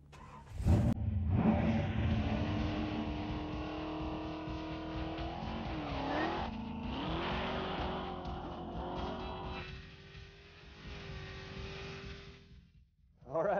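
A 500ci big-block 1971 Plymouth Duster drag car launches down an eighth-mile track, its engine roaring loudly and rising through gears with tire squeal before fading away into the distance.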